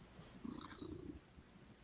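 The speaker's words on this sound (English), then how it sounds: "He's purring at least." A cat purrs softly and close for a moment, a low rattling rumble swelling in two short pulses over a quiet background.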